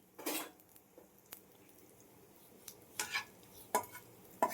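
Mustard seeds and asafoetida crackle and pop in hot oil, scattered sharp bursts at irregular intervals over a low, quiet sizzle, with occasional stirring.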